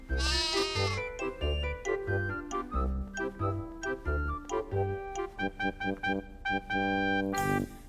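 Sheep bleat, with a wavering bleat at the start and again at the end, framing a bouncy children's melody of plucked notes and a steady bass line.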